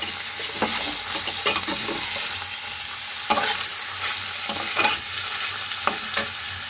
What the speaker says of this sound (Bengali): পনিরগুলো হালকা করে একটু ফ্রাই হবে